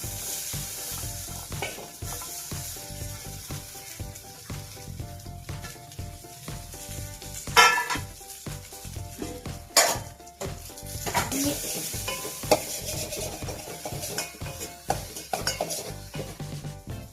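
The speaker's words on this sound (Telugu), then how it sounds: "కొంచెం పసుపు, పల్లీని కొంచెం ఇలా వేయించుకోవాలి లైట్గా" Peanuts with cumin and turmeric roast in a hot pan and are stirred, giving a steady sizzle with scraping and occasional sharp clinks of a utensil against the pan, close up and with no voices.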